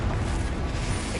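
A Confringo blasting spell explodes in Hogwarts Legacy, a loud, continuous low rumble that fills the whole moment without a sharp single crack.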